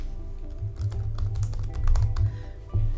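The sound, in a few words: typing on a computer keyboard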